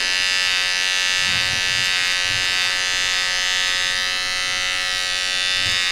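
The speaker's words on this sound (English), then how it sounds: "we're going to get the shaver, and we're just going to turn all this stubble below" A loud, steady electric shaver buzz runs close up over stubble during a fade haircut, for the whole stretch with a constant whine and no pauses.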